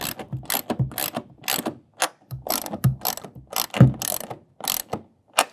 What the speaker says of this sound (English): We're going to take a 1/2 inch wrench or ratchet and then just start tightening down.